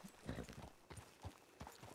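A weary, limping horse in a ranch roleplay video game clip-clops in a soft, uneven rhythm of hoofbeats. The steps are faint and close, with no other sound over them.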